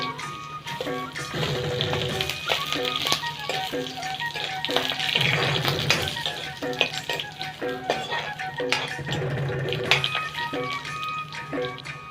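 Garlic tossed into hot oil with fried dried chillies for a stinkvine curry, sizzling and frying steadily while a utensil stirs and clinks against the pan, under a voice talking throughout and some music-like tones.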